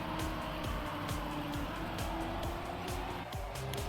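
Race cars in Trackmania with steady engine drone and repeated rising gear-shift whines, continuous and moderately loud over a faint background hiss.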